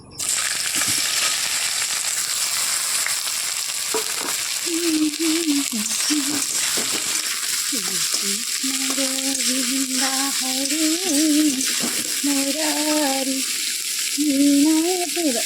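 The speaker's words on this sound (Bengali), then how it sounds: "এবার এখানে কেটে রাখা পেঁয়াজ আর রসুনটা আমি দিয়ে দেবো" Chopped onion and garlic fry in hot oil in a wok for a pabda fish curry, a loud, continuous sizzle with a voice talking over it in the second half.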